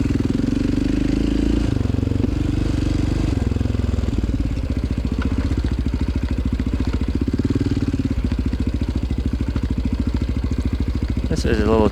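A quad ATV engine putters along at low revs during a slow cross-country ride on sandy, broken ground, a close, steady idling chug with rhythmic pulsing and a sharp squeal at the very end.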